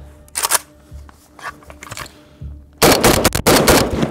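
Sharp gunshots from a Palmetto State Armory AK-105 rifle during a freezing cold-weather test, a few scattered reports and then a dense burst of rapid, loud shots close by.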